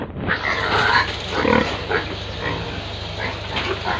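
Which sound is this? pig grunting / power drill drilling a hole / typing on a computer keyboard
pig grunting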